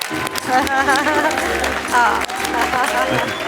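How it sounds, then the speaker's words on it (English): Audience applause after an interview with Kim Kiyosaki, founder and CEO of The Rich Dad Company, a loud continuous patter with talking and thanks voiced over it. "please give her a round of applause for that"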